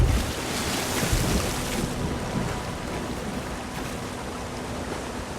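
Rushing waterfall in The Elder Scrolls Online, a loud broadband roar that starts strongest and settles into a steady, slightly softer wash, heard alone without speech.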